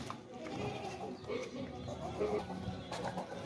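A Makhi Cheena goat bleats faintly a couple of times amid a busy, noisy outdoor background with people talking.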